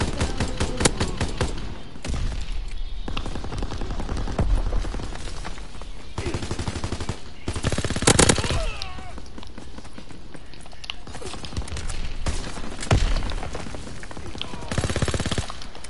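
Rapid bursts of gunfire and explosions from the Call of Duty video game, fairly loud and continuous with repeated volleys, while players talk over the action.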